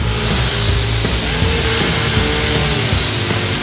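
Engine of a 1972 Ford Mustang Mach 1 revs hard and continuously, a loud, raspy roar with rising and falling harmonic tones held near the limiter throughout, with no talk over it.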